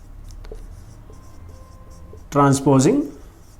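Maths equation being written out during a Class 8 lesson, faint pen or marker strokes for about two seconds, followed by a short stretch of someone speaking.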